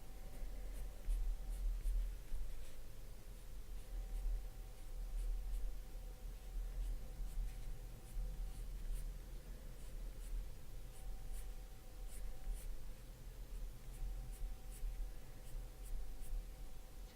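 Prismacolor colored pencil sketching hair on paper, a steady run of light scratchy strokes and quick outward flicks, close and soft under a faint background hum, with no talking.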